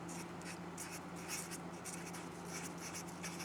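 A pen scratches steadily across a surface while someone rewrites a word in a lesson on sugar and alcohol production, close and continuous with rhythmic strokes over a constant low hum.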